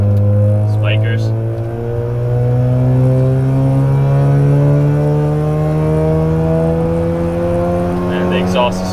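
A modified car exhaust drones loudly from inside the car on a mountain road, a steady low engine note rising and falling slightly with a few faint crackles, with no clear talking.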